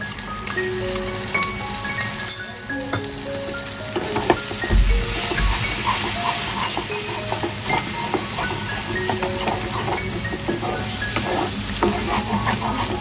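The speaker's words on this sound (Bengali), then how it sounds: "এটা আবার আমি ভালো করে মিক্স করে নেবো বেটে রাখা মশলা দিয়ে" Prawn bhuna stirred with ground spices in a hot pan, a dense continuous sizzle with frequent scraping stirs, loud and close, with no talk.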